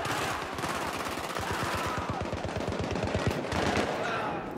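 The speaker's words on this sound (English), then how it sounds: "Because there's a lot of gunfire, you guys won't be able to hear me properly." Dense automatic and single gunfire from Battlefield 3, rapid bursts crackling continuously at moderate level over a steady noisy battle background, with no talking.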